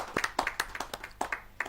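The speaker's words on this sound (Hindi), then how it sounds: "जो जोरदार ताली के साथ हम उनका स्वागत है।" A small audience claps to welcome a poet at a Hindi kavi sammelan, producing sparse, distinct near hand claps in a loose, uneven rhythm rather than a dense roar.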